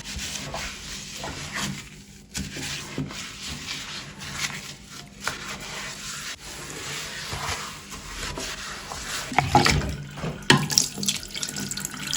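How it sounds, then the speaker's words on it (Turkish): Forks and spoons that were soaking in bleach get washed under a running kitchen tap, with a steady stream of water, occasional clinks and rubbing of metal cutlery, and louder splashes near the end. "Çamaşır suyunda böyle kaşıklar bekliyor çatal kaşıklar. Onları şimdi yıkayalım sizle birlikte."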